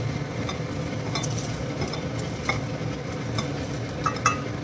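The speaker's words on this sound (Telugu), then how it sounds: "సో పచ్చిమిర్చి మనం ముందే ఎందుకు ఫ్రై చేస్తున్నాము" Green chillies frying in a pan with oil, a steady sizzle broken by occasional scrapes and light clinks of a stirring spoon against the pan, close and even throughout.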